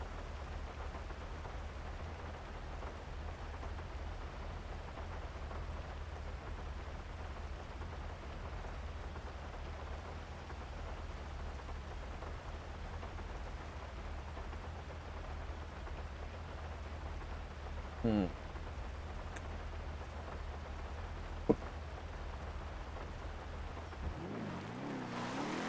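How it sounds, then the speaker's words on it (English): Steady rain hisses in GTA V on the NoPixel roleplay server, an even, unbroken wash for the whole stretch with a couple of brief clicks near the end and no talking. "Why is it raining, dude?"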